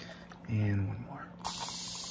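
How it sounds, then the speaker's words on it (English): A spray bottle gives a quick hissing spritz during an ASMR cranial nerve exam, a short burst near the microphone, with a soft voice speaking briefly before it. "I'm just gonna spray."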